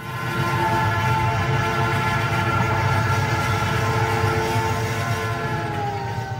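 A train rolls along in a steady, continuous rumble with a sustained tonal hum, used as a sound effect in a Bengali horror audio story.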